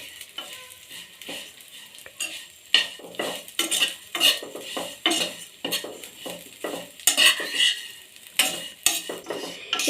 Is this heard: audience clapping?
no